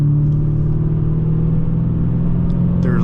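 A 2017 Dodge Challenger Scat Pack 392 Shaker exhaust booms under throttle in sport mode, a steady, loud, low rumble heard from inside the car throughout.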